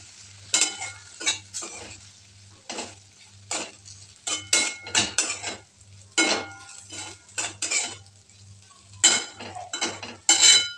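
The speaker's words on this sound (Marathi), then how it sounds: "मग मी त्यामध्ये टाकले शेंगदाण्याचं कूट आणि व्यवस्थित हलवून घेते" Spatula strokes stir a bhindi (okra) sabzi with crushed peanuts in a pan, clinking and scraping sharply in separate bursts with short pauses between them, close and fairly loud over a low steady hum, with no voices.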